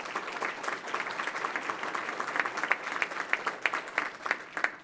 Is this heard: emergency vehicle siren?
no